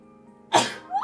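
A single sharp sneeze bursts out suddenly over a quiet room tone and trails off into a short breathy tail.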